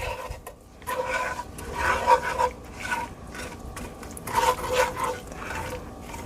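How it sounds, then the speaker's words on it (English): A whisk scrapes and swishes through a light corn syrup mixture in a bowl for a chocolate sugar skillet cookie, in irregular bursts of moderate, close-up rubbing strokes with brief pauses. "we're gonna whisk these together"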